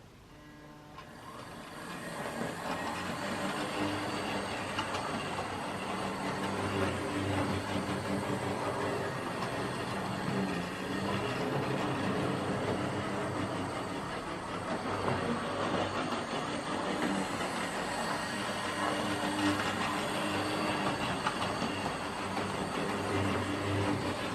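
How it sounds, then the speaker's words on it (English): A small Hornby model train set runs continuously around its track, a steady whirring motor with rhythmic clicking of wheels over rail joints. "let's just give it some juice and obviously see the set run round"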